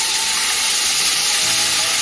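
Masala paste for stuffed brinjal biryani hitting a hot pan, giving a steady, close, broadband sizzle and hiss that holds evenly throughout without pause, with no talking over it.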